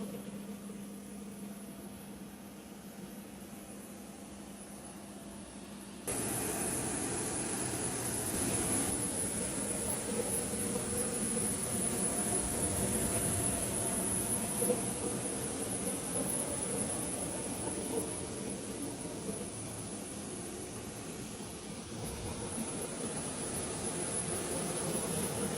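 Auxiliary power unit, a small jet engine in the tail of a Boeing 767 cargo conversion, gives a steady broadband roar; the level steps up after a few seconds and then holds as a constant loud whine-and-rush.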